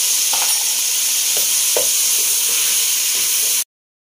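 Chicken stir-frying with chili sauce and dark soy sauce makes a loud, continuous sizzle with a few soft stirring knocks, close by, before cutting off abruptly.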